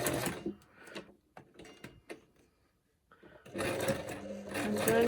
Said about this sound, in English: I'm on straight stitching, and now I'm going to go a bit of a double stitch